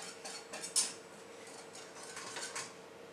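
Pastry cream for a mille-feuille being tipped from a pot back into a bowl: a few light clinks and scrapes of utensils against the pot, one louder metallic clank near the start, over a quiet kitchen.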